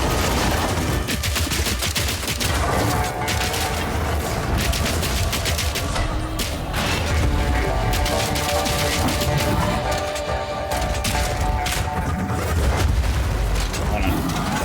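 Frag rounds exploding in Path of Exile 2 amid steady gunfire, a loud, dense barrage of booms and rapid shots that runs without a break, with game voices underneath.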